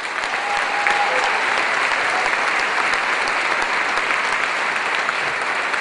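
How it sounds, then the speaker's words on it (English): A seated audience at an academic all-star salute gives sustained applause for the directors and coaches of a performance, a dense, even wash of many hands clapping that holds steady at moderate volume. "to the people who directed and coached and put that performance together, again, a round of applause"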